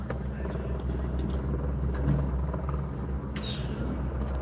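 Steady low rotor rumble of a helicopter fills the clip, loud and continuous, with a sharper hiss briefly joining near the end.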